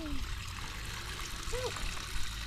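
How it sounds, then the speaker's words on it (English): Water runs steadily through a boat's outboard motor during a flush outdoors on a rainy day, a continuous trickling wash heard close with faint low rumble underneath and no talk. "helping me flush the motor"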